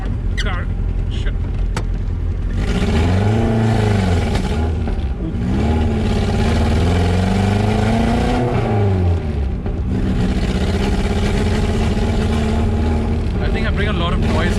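A vintage car engine rumbles and revs up and down repeatedly at close range, loud throughout, with a voice speaking over the engine noise.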